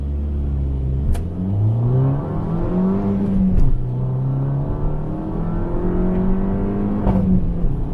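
A 2015 Fiat 500 Abarth engine revs up and shifts through gears, pitch climbing and dropping with each change, accompanied by a few sharp pops.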